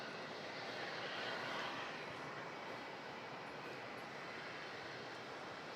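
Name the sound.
airliner landing at Melbourne Airport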